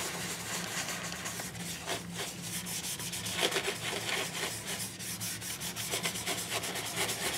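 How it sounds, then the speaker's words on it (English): A paper towel rubs wax onto the front cover of a book in steady back-and-forth polishing strokes, close by with a soft, dry swishing texture and no talking. "I am going to polish the front of this book with some wax."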